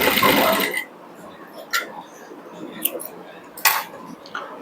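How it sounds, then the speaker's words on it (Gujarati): A sewing machine runs in a steady close buzz while stitching a folded fabric strip as a neckline or waist band, stopping after a second, followed by a few soft clicks and fabric handling sounds. "તો આ રીતે આપણે ધીમે ધીમે પટ્ટીને વાળતા જવાનું અને સિલાઈ લગાવતા રહેવાનું"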